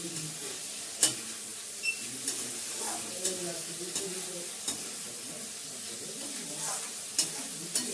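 Steady sizzling and crackling of potatoes and peas frying in a pan, with occasional sharp clicks of a utensil stirring, close up and with no talking.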